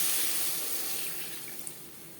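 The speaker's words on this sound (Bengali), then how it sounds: "এই পর্যায়ে দিয়ে দেবো জল।" Water running from a tap or being poured into a pan of pabda fish and eggplant curry with fried spices, a steady close hiss that gradually fades, with no talking.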